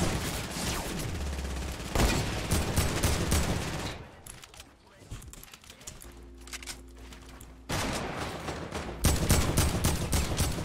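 Gunshots in Fortnite: Battle Royale, fast rattling bursts of rapid fire in loud clusters, a quieter gap in the middle, then renewed heavy shooting near the end.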